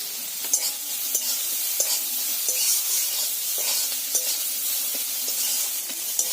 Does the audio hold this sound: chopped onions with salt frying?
yes